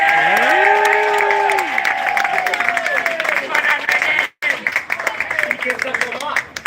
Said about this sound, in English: Listen, clap it up for Megan.